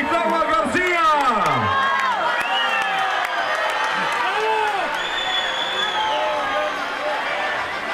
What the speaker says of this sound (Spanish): ¡El aplauso para Cuitláhuac García!